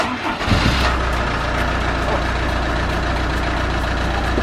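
A 1992 Citroën C25 camper van engine cranks briefly and catches after an oil change, then settles into a loud, steady, close idle.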